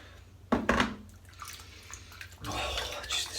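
Water and suds are squeezed from a two-band badger shaving brush, giving wet, close splashing and dripping in short bursts.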